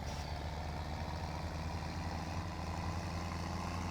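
A tractor pulling a new plow down a wide four-lane road in Farming Simulator 17 sends out a steady, loud low-pitched engine drone that holds without a break.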